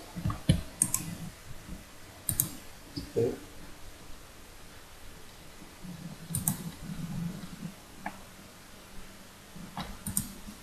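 Computer keyboard and mouse clicks while copying and pasting, a few sharp close clicks and short tapping bursts scattered across a quiet room with faint rustling.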